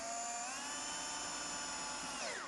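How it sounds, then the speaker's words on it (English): A power drill spins a paddle bit through a 5/8 inch hole during a speaker kit install on a 2015-20 vehicle, giving a steady, loud high-pitched whine with a pitch that drops near the end, heard alone without talk. "So I'm going to drill a 5/8 hole right in this area here."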